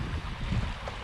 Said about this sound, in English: Actually, it's quite windy.